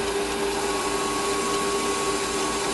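A lathe takes a facing cut on a small metal engine canopy part, a steady, continuous whirring hum with a fixed tone and no voices.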